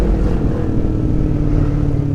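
A motorcycle with an aftermarket knalpot exhaust riding along, giving a steady, loud, low engine drone that holds even throughout with no clear revs or gear changes.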